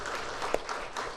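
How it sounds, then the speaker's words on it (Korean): Church congregation applauding a choir after a hymn, a short burst of fairly soft, blended clapping from many people with one sharper clap standing out, no voices over it. "감사와 격려의 박수하겠습니다"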